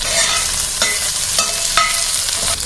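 Thinly sliced ivy gourd fries in oil with mustard seeds, asafoetida and curry leaves, a close, loud steady sizzle broken by a few quick stirring scrapes.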